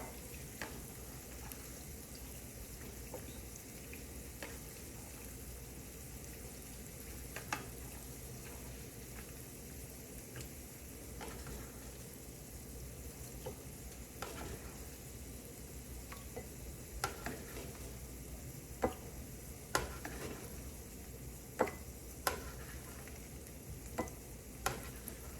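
Ground beef for enchiladas fries in a greasy pan with a steady, dense sizzle, while a utensil scrapes and stirs through it, the irregular clicks and scrapes standing out now and then over the continuous hiss.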